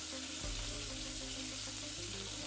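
Potatoes for red flannel hash frying in a hot cast iron pan, giving a steady, fairly faint broadband sizzle with a low hum underneath and no talk.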